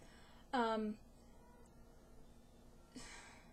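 A female house cat meows faintly indoors, one short call near the start and a softer one a few seconds later, against a quiet room.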